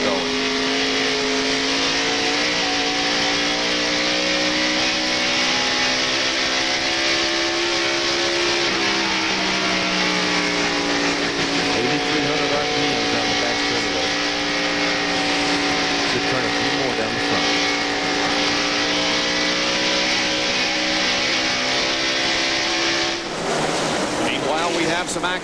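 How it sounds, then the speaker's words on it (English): A 1993 NASCAR Winston Cup Valvoline Ford V8 race car drones loudly onboard at Darlington Raceway during the Southern 500, its engine note rising and falling through gear changes with steady, unbroken pitch for most of the lap, under commentary. "let's jump inside the Valvoline Ford and take a few laps around"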